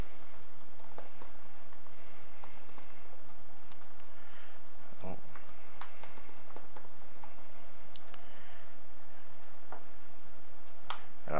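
Computer keyboard typing while a registration form is filled in during Nessus Home setup on Kali Linux, faint scattered keystrokes in an irregular rhythm over a low background hum, with no talking.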